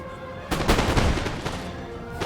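Musket volleys fired at grenadiers in the Napoleon: Total War Italian campaign, heard as a dense crackling burst of many overlapping gunshots, loud and close, lasting nearly two seconds.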